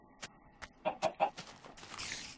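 Video game chicken clucking, a few short clucks at first and then a quick run of three louder ones, followed by a soft hiss of background noise.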